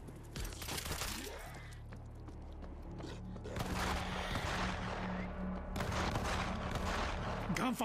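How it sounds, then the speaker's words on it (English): Gunfire erupts in a World War Z zombie shooter set in Tokyo, with dense bursts of cracking shots in two loud clusters separated by a quieter stretch, mixed with game sound and faint voices. "Gunfire from the bus."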